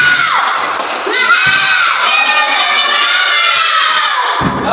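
Second-grade schoolchildren in a classroom shout a rhythmic clapping chant together, a loud crowd of young voices with claps in steady bursts.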